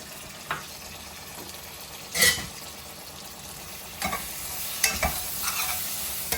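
Boiled rajma with its water fries in a pan for a Punjabi-style curry, a steady sizzle broken by several distinct scraping strokes of a spoon against the pan.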